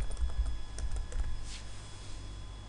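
Name being typed on a computer keyboard in an Excel worksheet: a quick close run of soft key clicks that thins out and stops near the end, over faint steady background hum, no talking.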